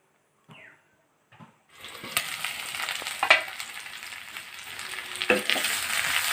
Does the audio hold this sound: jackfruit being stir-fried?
yes